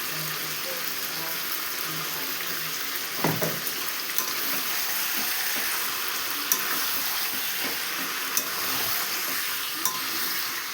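Chicken stirred with a ground spice paste in a hot pan, steady sizzling and frying with a few scraping clinks from the utensil, close and continuous.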